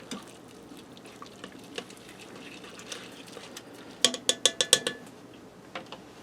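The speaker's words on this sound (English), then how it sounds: "I'm going to go in there and stir the spaghetti around real quick." Spaghetti stirred in a pressure cooker pot, faint soft scraping and clinking of a utensil against metal, with a quick run of sharper taps toward the end.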